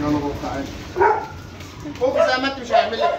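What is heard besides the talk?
fierce farm dog barking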